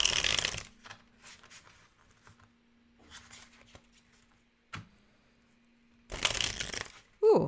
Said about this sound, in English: Ooh, that was a terrible shuffle.